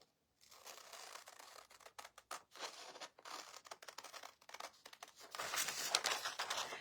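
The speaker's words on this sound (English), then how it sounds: "So I'm just going to take the scissors and cut that edge off." Scissors trim the edge of paper while decoupaging an Easter bunny craft, heard close and quiet as a run of crisp snips and crinkles, growing busier and louder toward the end.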